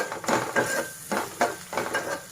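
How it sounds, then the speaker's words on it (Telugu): Onion frying with a ground coriander-cumin and garam masala powder in a pan, rhythmic stirring scrapes about every half second over a steady close sizzle, no voices. "ఉల్లిపాయతో పాటు ఇవన్నీ మసాలాలు బాగా వేగించుకుంటాయండి"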